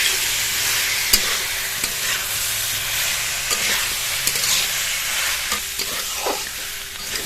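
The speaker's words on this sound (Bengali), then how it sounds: "এবার এর মধ্যে ভেজে রাখা সবজিগুলো দিয়ে দেবো। সবজিগুলো দিয়ে আরো খানিকক্ষণ কষিয়ে নেব।" Fried vegetables are stirred in a spice masala in a hot pan, giving a continuous close sizzle punctuated by sharp scrapes and taps of a spoon against the pan.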